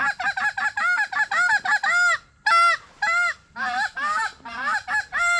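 Wild geese during an opening-day goose hunt in Iowa give a rapid series of loud, close honks, several birds calling over one another in quick bursts with short pauses.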